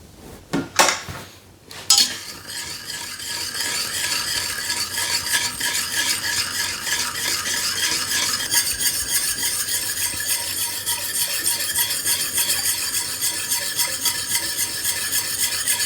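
A couple of sharp clinks against a container, then steady scraping and swirling as a spoon continuously stirs sugar into a litre of near-boiling water in a pot.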